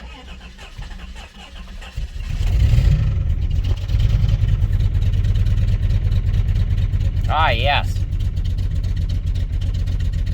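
A 1994 Chrysler Town & Country minivan engine cranks and catches around two seconds in, then settles into a steady, loud idle with a low rumble; a brief high whistle and a short spoken remark follow.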